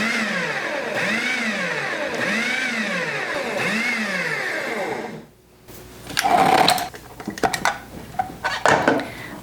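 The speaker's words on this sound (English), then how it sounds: "We're just going to pulse this until that molasses incorporates into the sugar" A food processor pulses sugar and molasses in four rising and falling motor bursts of even rhythm. After a pause, clattering and scraping sounds follow nearby.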